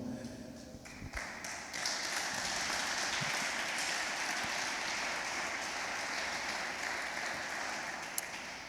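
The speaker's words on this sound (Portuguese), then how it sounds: "Então se assente aplaudindo bem forte ao Senhor." A church congregation applauds loudly together, a dense, sustained wash of clapping that starts after a brief quiet moment and holds steady to the end.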